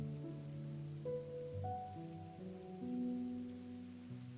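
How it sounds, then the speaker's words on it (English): Rain patters steadily outside, soft and constant, beneath gentle sustained musical tones that shift slowly in pitch; the whole scene is quiet and low in level. "The patter of rainfall continues outside."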